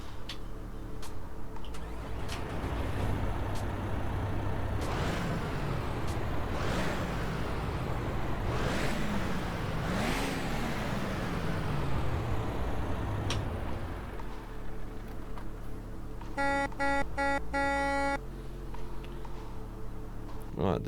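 An International LT truck engine from American Truck Simulator, heard from outside the cab: a steady low idling rumble with a few rising and falling revs, running under ongoing talk.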